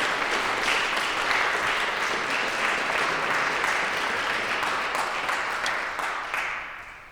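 Audience applause after a talk at a Stoic Arts morning session, a dense, steady wash of many hands clapping that holds evenly for several seconds and then thins and fades toward the end.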